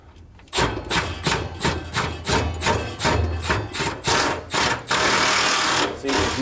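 A drill drives into a concrete block with an undersized bit in a garage during a cabinet install, giving a loud, rough grinding drone that pulses in repeated bursts as the bit bites, then runs steady near the end.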